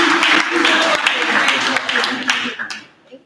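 Applause from the audience at a press conference for the 53rd Annual African American Day Parade, a dense broadband patter of clapping fairly close and loud, fading out near the end.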